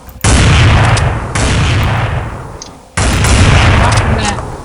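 Three loud sniper rifle shots boom in a shooter game, each with a long, rolling echo that fades before the next, spaced about one to two seconds apart.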